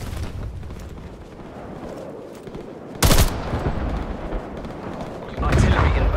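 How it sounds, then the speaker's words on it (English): Artillery barrage in the Call of Duty Cold War video game, with a continuous rumbling bed of distant blasts and gunfire and two heavier close impacts, loud, alongside radio-style voice callouts. "Artillery inbound."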